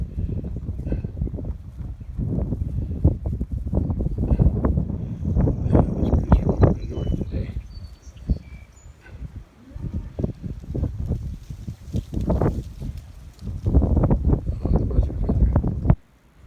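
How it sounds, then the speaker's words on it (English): Gusty wind buffets the microphone outdoors on a cattle farm at hay-feeding time, loud rumbling bursts rising and falling throughout with brief lulls. "The wind's blowing it away."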